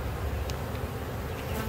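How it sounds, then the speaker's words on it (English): Honeybees from a package colony buzz steadily around an open hive during a day-32 inspection. It is a dense, continuous drone close by, with no speech. "that's where the bees are merging and they're filling the nectar"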